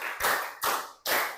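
Three sharp hand claps spaced evenly, near and loud, each decaying quickly into a brief ring, performed as a counted clapping pattern in a classroom icebreaker game.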